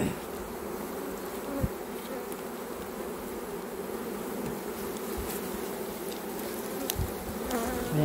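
Honeybees buzz continuously close by at an open hive, a soft droning hum with individual bees flying past now and then.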